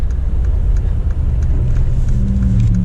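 A Mercedes G63 AMG rumbles low and steady as it accelerates along the road, heard from inside the cabin with no talking.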